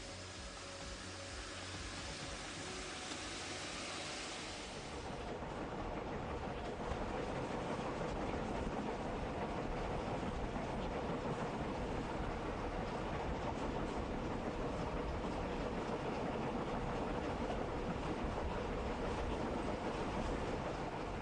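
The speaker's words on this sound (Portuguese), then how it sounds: "o trem chega à estação de Dete para uma parada durante a noite" The Deluxe train pulls into Dete station at night with a broad, continuous rolling rumble and wheel noise that swells after a few seconds and then holds steady, heard from on board or close by.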